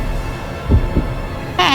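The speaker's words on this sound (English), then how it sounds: "My heart is beating so fast" A heartbeat in the horror game Spirit Hunter: Death Mark II thumps twice at low pitch, one beat close after the other, over a steady hum, before a brief tonal sound cuts in.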